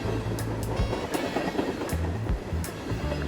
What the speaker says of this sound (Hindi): थोड़ी दूर जाने के बाद मनी ट्रेन इन्हें पार करके तेजी से जाने लगी।